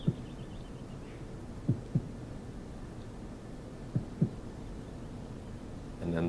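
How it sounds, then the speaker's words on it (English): A heartbeat in pairs of soft low thumps, three double beats spaced about two seconds apart, faint over a quiet hum. "you hear a heartbeat"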